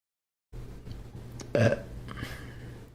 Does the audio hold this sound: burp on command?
yes